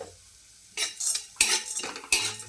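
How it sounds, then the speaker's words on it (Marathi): Sunflower seeds fry in homemade ghee in a pan and are stirred with a metal spoon, giving bursts of scraping and clinking over a soft sizzle after a quiet start. "त्यानंतर सूर्यफुलाच्या बिया, त्याही छान तुपामध्ये तळून घ्यायच्या."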